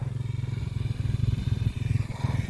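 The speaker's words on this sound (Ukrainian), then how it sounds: "Спочатку дістав мотоцикл з гаража, просто завести, прогріти, прокататись по дорозі біля хати" A motorcycle engine warming up outdoors in winter, a loud, close, steady idle with rapid rhythmic pulsing and a low throb that holds evenly throughout.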